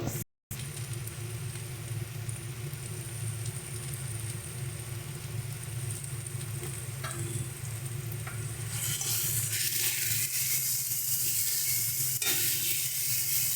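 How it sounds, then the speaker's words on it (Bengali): Spices and salt frying and being stirred together with onions in a pan for a Bengali rohu (katla) fish roe dish, a steady close sizzle with stirring scrapes throughout, growing brighter and louder in the later part. "এবার সমস্ত মশলাগুলোকে পেঁয়াজের সঙ্গে ভালো করে মিশিয়ে নেব"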